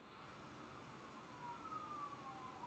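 An ambulance siren passes by outdoors, a faint, steady wail rising slightly as it goes by, heard distantly indoors through the room without any speech.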